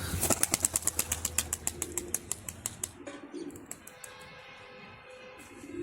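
Rapid, rhythmic wing flaps burst out close by as a pigeon is released on its first flight, about twenty quick beats, then fade into softer fluttering and distant bird sounds.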